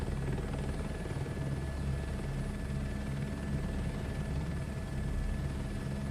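Steady, loud rotor thump and turbine whine of a helicopter in Microsoft Flight Simulator 2024, droning continuously without pause from start to finish, with no voices over it.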